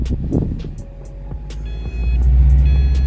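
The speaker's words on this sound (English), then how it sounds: "Car's telling me to buckle up." A car's seatbelt reminder chime sounds inside the cabin as repeated tonal beeps over the low rumble of the running engine, growing steadier toward the end.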